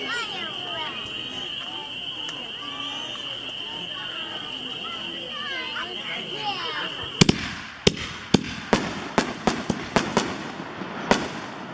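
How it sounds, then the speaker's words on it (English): Pyro Junkie Pyro 5-inch Super Shells launch in quick succession, a string of about nine sharp, loud booms spaced under a second apart, following a stretch of steady background noise and a tonal whine. "Number 31 is the Pyro 5-inch Super Shells by Pyro Junkie."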